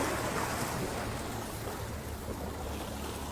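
A river churned up after a storm gives a steady, full rush of moving water and lapping waves, continuous and fairly close, with no voices.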